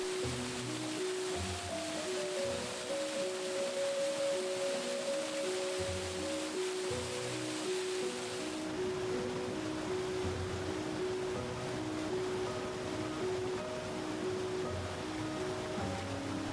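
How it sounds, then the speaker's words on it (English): The Athi River roars down a chain of fourteen consecutive waterfalls in Kenya, a steady broadband rush of falling water that continues throughout beneath a melodic music bed. "the mighty Athi River tumbles down 14 consecutive waterfalls"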